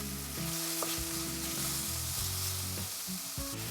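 Chicken pieces fry in oil in a pan, giving a loud, steady, continuous sizzle throughout, with no voices over it.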